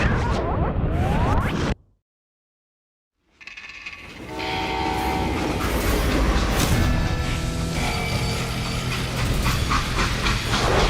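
Freight train in the Call of Juarez: Gunslinger video game, with a rumbling run of rail cars, a short silent gap, then loud clanking, hissing steam and a long horn sounding up close.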